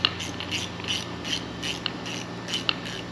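Ratchet strap on a truck being threaded into its spool, giving a steady series of about eight light clicking ratchet pulses under low background hum, close and fairly quiet, with no talk.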